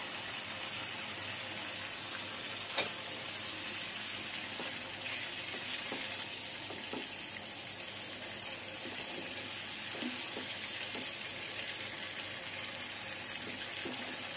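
Mustard paste with hilsa fish frying in a pan, a constant loud hiss with faint occasional scrapes from stirring, heard alone.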